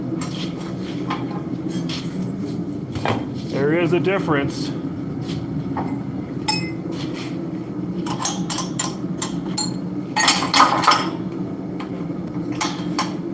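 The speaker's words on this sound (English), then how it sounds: "So I actually need to switch out the dies on my power hammer real quick here." Metal dies clank and knock against one another while being swapped on a forging press, with scattered sharp metallic hits over a steady machine hum and someone talking intermittently.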